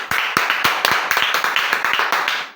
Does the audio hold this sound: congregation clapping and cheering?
yes